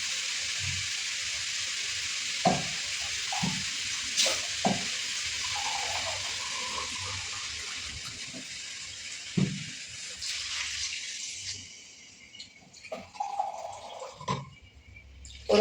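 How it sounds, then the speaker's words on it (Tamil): Water poured into a pan of sizzling curry, a continuous hiss of frying with scattered stirring knocks, the sizzle dying down toward the end as liquid settles in. "இப்போ அப்படியே தண்ணி ஊற்றிடலாம்."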